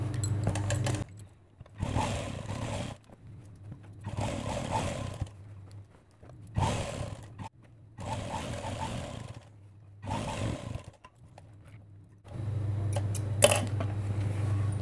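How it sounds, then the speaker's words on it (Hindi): Sewing machine stitching a fold along the neckline of an old shirt being converted into a top, running in repeated bursts of steady mechanical whirring separated by short pauses. "ये वाला कपड़ा हम ऊपर करते हुए इस तरीके से सिलाई लगाते हुए ले जाएंगे।"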